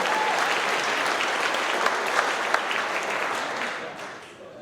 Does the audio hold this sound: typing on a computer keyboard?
no